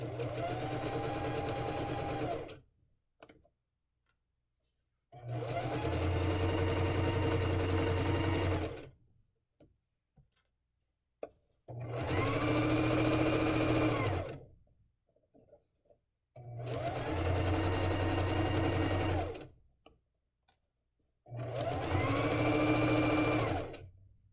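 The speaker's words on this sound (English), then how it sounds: "This is a permanent stitch." A sewing machine stitches a permanent seam in five steady runs of a few seconds each, its motor humming and needle clattering rhythmically, close and clear, with short quiet pauses between runs.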